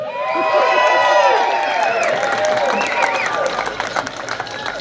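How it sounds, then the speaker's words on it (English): A crowd at a campaign speech announcing a run for New Mexico governor breaks into loud, sustained applause with cheering and whoops that slowly fade, with voices mixed in. "In this speech, I had big applause line."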